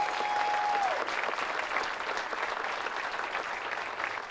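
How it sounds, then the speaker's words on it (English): Crowd applause for veterans at a bridge ceremony, a steady, dense clapping that carries evenly for several seconds and tapers only slightly near the end. "let's give them one more round of applause"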